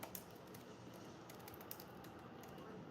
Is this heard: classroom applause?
no